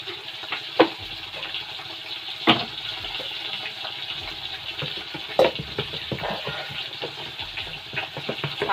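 Dosa batter sizzles on a hot pan in a home kitchen, a soft, steady frying hiss with occasional clinks and scraping taps from utensils, close and fairly quiet.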